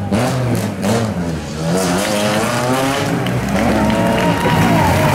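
A rally car leaves the ceremonial start of Rally Bulgaria 2017, its engine loud and near, revving up through rising pitch sweeps as it pulls away, with crowd noise in the background.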